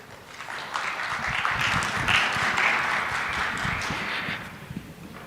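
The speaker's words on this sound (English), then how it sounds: "give yourself a round of applause and good job on the application" Audience applause at the close of a technical talk on building trustworthy foundation model applications, a steady wash of clapping from a hall that holds for about five seconds with no voices over it.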